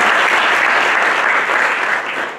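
An audience at a business innovation event in a Bucharest hotel applauds, a loud, dense burst of clapping that holds steady, then eases slightly toward the end.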